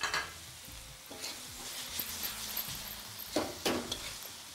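Chicken pieces for hoisin cashew chicken fry in a pan and get stirred, with soft sizzling and a few sharp scraping clatters of the utensil against the pan, close and fairly quiet.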